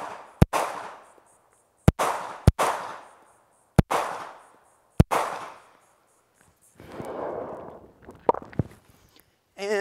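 Kahr X9 pistol fired on a shooting range: sharp, loud single shots spaced about a second apart, each followed by a short echoing decay, with a brief pause for a magazine change before the last shots.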